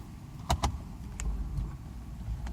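A Mercedes 600SL backs slowly down a residential street, its engine a low, steady rumble with a couple of sharp clicks near the start, heard up close and fairly quietly, without talk.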